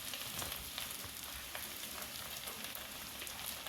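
Diced potatoes sizzle and crackle in oil while being stirred in a pan for sabudana khichdi, giving a steady close frying hiss with small scraping ticks and no voices.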